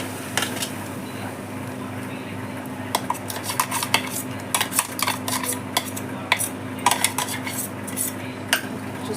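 A utensil stirs tomato puree into a fish head curry in a metal pan, scraping and clinking repeatedly over a low steady hum, with light sizzling underneath.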